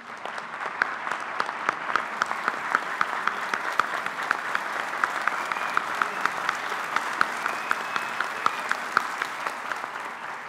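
Steady, sustained applause from a large audience at a Turkish party's Ankara provincial advisory council meeting, greeting district chairs with dense clapping throughout and a few sharper claps standing out.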